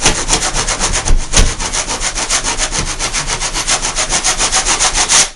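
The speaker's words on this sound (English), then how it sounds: "all we need to do is take a scraper" Metal scraper rasping over built-up paint on drywall in steady back-and-forth strokes, a dense rhythmic scratching close up with no voices.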